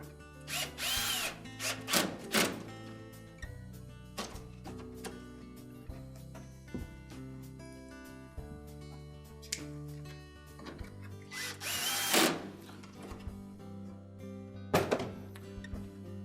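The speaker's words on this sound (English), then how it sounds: "Reinstall the screws." A power drill drives screws into the door latch assembly of a Whirlpool washer in several short, whirring bursts, with clicks and thunks of handling between them, close and fairly quiet.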